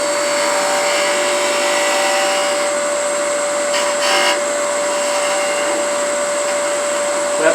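A wood lathe spins a dried Bradford pear Easter egg blank, a steady loud whine with a constant pitched tone and faint cutting hiss throughout, close and unbroken, no talking.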